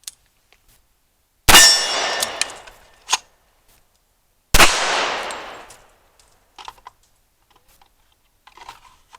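Two sharp, loud rifle and pistol shots about three seconds apart in a transition drill using a two-point sling, each with a ringing outdoor decay, followed by faint metallic clinks.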